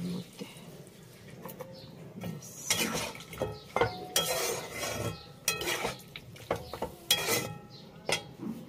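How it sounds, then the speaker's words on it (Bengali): Milk is poured into a cooking pot and stirred, producing soft intermittent scraping, clinking utensil-on-metal sounds at close range, with birds chirping faintly in the background. "এখন এই দুধটা আমি দিয়ে দেবো"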